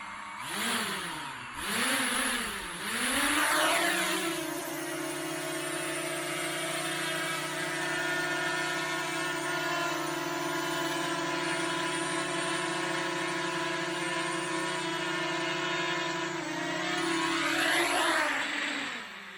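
DJI Mavic Mini drone spinning up its motors and propellers after a crash, rising in pitch through a few revs and then holding a steady, close, whining buzz before winding up again near the end.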